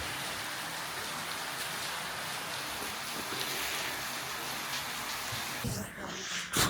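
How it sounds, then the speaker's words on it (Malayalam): Rain easing off in the mountains near Tungnath on the Chandrasila Peak trek in Uttarakhand, a steady even patter of drops on surfaces throughout, with a brief rustling, handling noise near the end. "രണ്ടര വരെ നല്ല മഴയായിരുന്നു, ഇപ്പോൾ കുറഞ്ഞു"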